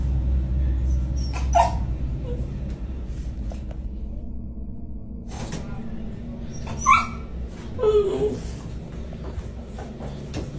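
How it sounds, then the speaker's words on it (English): A pet dog whines from another room of a house: a few high, short whimpers at scattered moments over a steady low background hum, fairly distant and not loud. "she heard her dog whining from another room"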